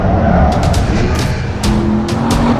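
A Porsche Panamera Turbo S is driven fast on the Nürburgring Nordschleife, with loud, steady engine and road roar heard from inside and brief tyre squeals cutting through several times.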